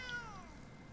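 Cat token in the Magic Arena card game giving one short, quiet meow that slides downward and fades, heard alone against faint background hum.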